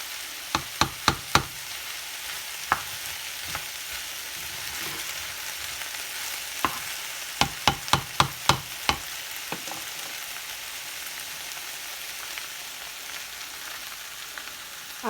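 Smothered okra with shrimp sizzles steadily in a pan, a constant frying hiss broken by clusters of sharp utensil clicks and scrapes, close and alone without voices.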